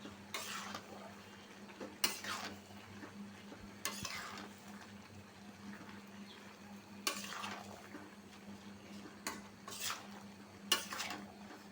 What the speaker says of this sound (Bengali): ডিমগুলো এখন দিয়ে দিব দিয়া ভালো করে আলুর সাথে এভাবে মিশিয়ে নিব